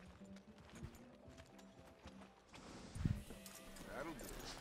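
Horse hooves clip-clop in Red Dead Redemption 2 as the animal is led along, a few soft close steps under game ambience, with someone talking over them.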